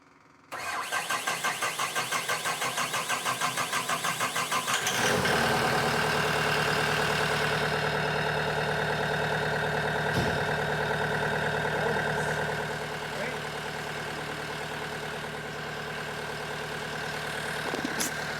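A CAT 906M loader's diesel engine, just after injector replacement, cranks with a rapid rhythmic starter whir for several seconds, then catches and settles into a loud, steady, slightly uneven idle close by.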